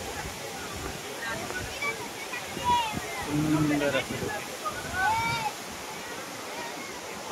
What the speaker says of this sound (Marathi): हे आता साधारण पोचलेलो आहे कोकणातील या धबधब्यावर.